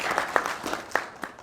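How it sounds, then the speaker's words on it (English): A conference audience at a game development event claps briefly, scattered individual claps over a soft wash of crowd noise, moderately loud. "Please give yourself a big round of applause."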